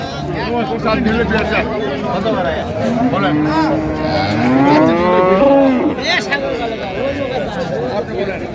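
A dairy cow moos loudly and repeatedly at a cattle market in Raniganj, Dinajpur, long drawn-out lowing calls rising and falling over a murmur of people talking nearby.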